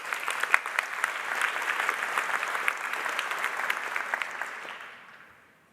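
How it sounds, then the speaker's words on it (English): Audience applause at a conference opening keynote, a full crowd clapping loudly and evenly for several seconds before tapering off and dying away. "so let's give them a big round of applause."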